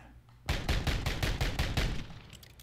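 The JAK Gunslinger fired from the hip in a video game lets off a rapid burst of about ten evenly spaced, punchy shots lasting roughly a second and a half, loud and close, then cutting off.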